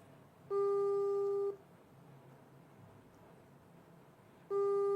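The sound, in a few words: phone call ringing, not answered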